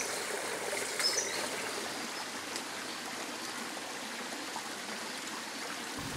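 A creek flows through a rainforest gorge in Kanangra, New South Wales, giving a steady, soft rushing and trickling of water, even and unbroken, with no voices.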